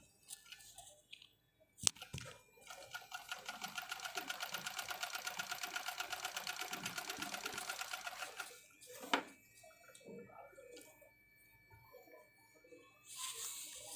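A sewing machine stitches steadily for about six seconds after its thread tension settings are adjusted, running in a fast, even rhythm. Quieter handling noises come after it stops.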